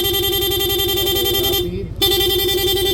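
Stock horn on a Yamaha NMAX scooter, held down in a long press: a loud, steady, buzzy electric tone sustained close by, with a brief break before it sounds again.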